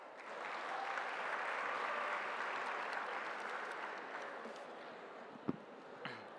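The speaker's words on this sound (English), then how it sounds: "Please have a huge round of applause." Audience at a professional knowledge session giving a round of applause before the vote of thanks, steady clapping that swells and then tapers off, followed by a couple of faint knocks.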